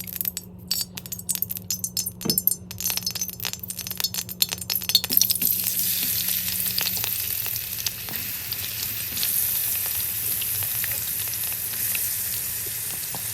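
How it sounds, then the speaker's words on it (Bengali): Plenty of oil sizzles hard as about three to four onions hit it for golden-brown frying, with early metallic clinks and scraping giving way to a steady, loud, close crackle on its own. "পেঁয়াজটা একদম গোল্ডেন ব্রাউন করে ভাজা নেব"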